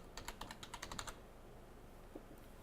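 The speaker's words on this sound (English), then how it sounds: "I'm going to type in Scottsdale" Quick burst of keystrokes on a computer keyboard, about a dozen light close clicks in the first second, then quiet room tone.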